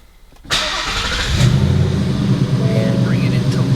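A Ford Mustang GT with a manual gearbox starts up indoors: a sharp crank catches into a loud, close engine roar that settles into a steady, rumbling idle.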